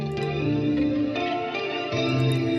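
A reverb effects pedal is switched back on over a sampled hip-hop beat, giving a washed, echoing sustain to the looping music, loud and continuous without talk.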